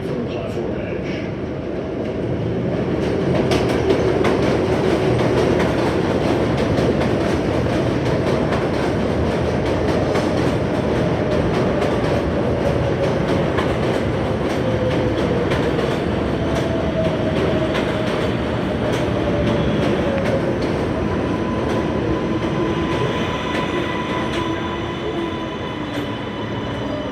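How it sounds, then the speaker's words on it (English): A Manhattan-bound NYC subway 7 express train pulls into Queensboro Plaza station during the morning rush. A loud, continuous rolling rumble carries steady wheel clatter and faint rising squeals. Talk and announcements sound faintly underneath. "This is a Manhattan-bound 7 express train."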